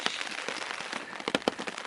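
Rain falls during a solo canoe trip in the Boundary Waters, a dense steady patter of drops striking a surface nearby, with a few sharper, louder taps near the end.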